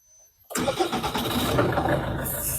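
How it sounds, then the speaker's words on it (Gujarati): After a moment of near silence, a New Holland 105 Workmaster tractor's diesel engine cranks and catches, settling into a loud, steady rumble close by. "ટ્રેક્ટર ચાલુ થઈ ગયું છે"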